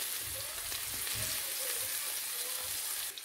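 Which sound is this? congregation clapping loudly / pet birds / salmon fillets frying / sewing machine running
salmon fillets frying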